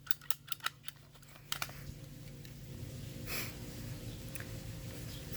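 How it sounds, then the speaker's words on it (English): Handy pipe cutters snip funny pipe: several sharp crisp clicks and crunches close by in the first two seconds, then a quiet hum with a faint rustle. "We'll get that cut. These handy pipe cutters."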